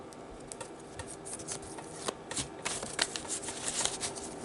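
Tarot cards are shuffled close by in soft, quiet bursts of riffling and slapping, the papery flutters repeating irregularly across a few seconds with no voice over them.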